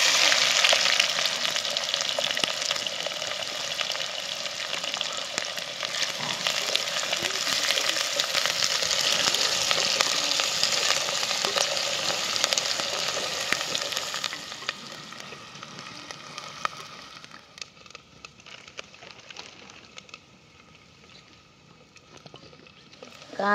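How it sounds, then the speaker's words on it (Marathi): Onions frying in oil with bay leaf and whole spices for sukka mutton, a loud, dense sizzle with stirring that drops to a quieter crackle with scattered scrapes toward the end. "कांदा लाल तळत तळत आला"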